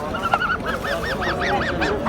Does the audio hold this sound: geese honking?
yes